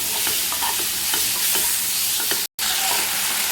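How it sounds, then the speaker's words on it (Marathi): Finely chopped raw banana sizzles in a pan with spices, stirred with several close scraping strokes over a constant frying hiss; a brief dropout cuts in near the end. "त्यात बारीक कट केलेले केळी टाकून चांगले परतून घेऊ।"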